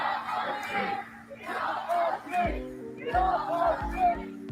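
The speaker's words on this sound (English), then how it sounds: "Crowd protest federal agent checkpoint in DC." A crowd of protesters shouts and chants at a federal agent checkpoint in Washington, DC, in loud rhythmic bursts, with a steady mechanical hum coming in partway through.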